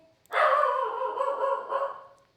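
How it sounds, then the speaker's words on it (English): A dog gives one long, loud bark that trails into a drawn-out yowling whine, close by in an otherwise quiet indoor room. "You don't need to bark."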